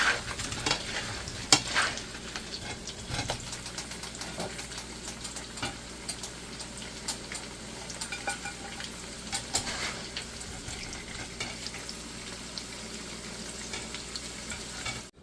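Potatoes fry in a pan for a pork pochero stew, a steady close sizzle with scraping stirs and occasional clinks of a utensil against the pan, no talking.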